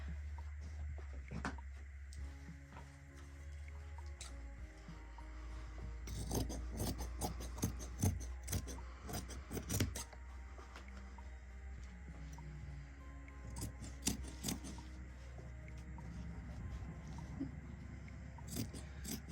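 Scissors snip and rasp through stiff embroidered fabric in repeated uneven bursts of crunchy cuts, close up, over a low steady hum.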